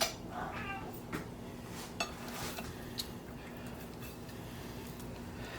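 A cat meows several times during salmon filleting in a kitchen, short cries scattered across the span, moderately close, over faint clinks of dishes and cutlery and a steady low background hum.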